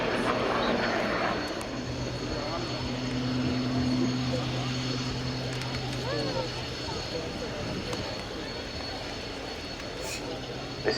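An RAF Tucano T1 turboprop display aircraft flies past at an air show at Yeovilton, its propeller drone steady and fairly distant, with a sustained hum and a commentator talking throughout.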